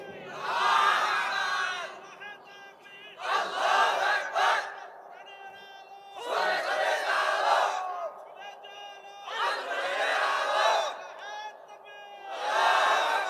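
A large crowd at an Islamic religious sermon shouts a slogan in loud unison, in five rhythmic bursts with short pauses between them, voices massed and echoing.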